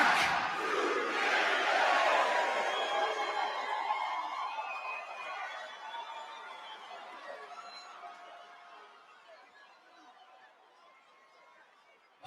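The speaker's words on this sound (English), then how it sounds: "Hey, crowd goes insane." A wrestling arena crowd roars and shrieks for The Rock, loud at first and then slowly fading over about twelve seconds, with scattered voices and laughter in the mix.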